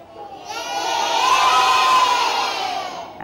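A crowd of children shouting and cheering together, rising to a loud sustained roar and then fading off, with no other sound.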